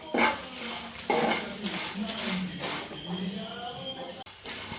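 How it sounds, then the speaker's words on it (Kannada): Masala for a Mangalore-style prawn curry fries in a pan with a soft sizzle as a utensil scrapes and clinks against the metal, and brief indistinct talk in the background. "ಈ ರೀತಿಯಾಗಿ ಫ್ರೈ ಮಾಡಬೇಕು."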